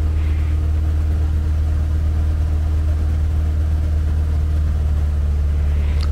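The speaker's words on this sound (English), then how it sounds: "as soon as we pull that mixture, RPM goes down" A light aircraft's piston engine droning steadily in flight as the fuel mixture is leaned, a loud constant low hum filling the cabin, with no obvious rpm change and no speech.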